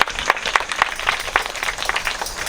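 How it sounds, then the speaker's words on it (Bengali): Applause from a church congregation welcoming a guest at an Easter morning service in Barishal, Bangladesh: a steady, moderately loud patter of many hands clapping together, sustained throughout without talk. "আমরা তার জন্য একটু জোরে করতালি দেই।"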